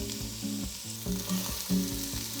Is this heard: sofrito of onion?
yes